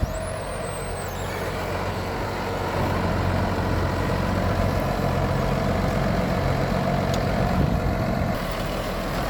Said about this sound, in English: Here we go, baler's in action, revs are up, PTO's spinning